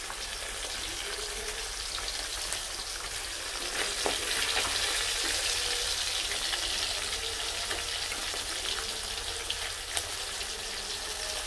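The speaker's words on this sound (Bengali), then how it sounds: "চলো মাছগুলো ভাজতে থাকি" Fish frying in hot oil in a pan gives a steady, dense sizzle with small crackles and pops that continues evenly from start to finish, with no one talking.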